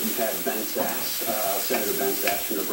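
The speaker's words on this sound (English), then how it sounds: "Put it in and let that fry." Crushed red pepper flakes frying in a pan for a red curry with tofu, a close, steady sizzle with rhythmic stirring scrapes and faint speech-like murmuring beneath.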